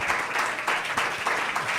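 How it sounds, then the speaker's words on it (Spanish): A congregation applauds during a Spanish-language church sermon, a full, steady clapping with faint rhythmic swells that stays moderately loud and runs alone without speech. "Denle ese aplauso fuerte a nuestro Dios."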